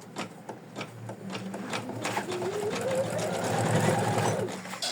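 An embroidery machine stitches a felt heart held in the hoop, giving a rapid, even mechanical patter at close range with a rising whine partway through.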